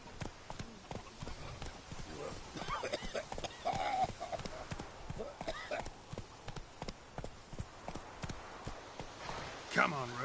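Roach, the horse in The Witcher 3: Wild Hunt, clip-clops at a steady gallop through the clip, loud and close, with someone talking over the hoofbeats.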